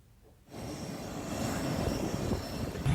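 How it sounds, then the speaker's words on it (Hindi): A passenger airplane landing at Patna after an in-flight emergency: a sustained broadband roar that begins abruptly after a short quiet start and grows louder toward the end. "लैंड करते वक्त ये विमान आप देख रहे हैं कि किस वक्त लैंड कर रहा था"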